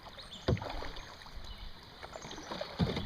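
A Jackson Kilroy DT kayak being paddled down a creek, with two sharp paddle strokes or hull knocks standing out over a steady rush of moving water and faint outdoor ambience.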